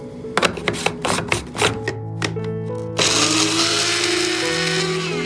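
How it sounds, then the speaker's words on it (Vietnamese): Soaked, softened dried shrimp get ground in a kitchen blender. A few stuttering bursts of choppy pulsing start it off, then the motor settles into a loud, steady whirring grind that runs on continuously, close by. "Phần tôm khô bây giờ đã mềm rồi thì mình sẽ đem đi xay nhuyễn."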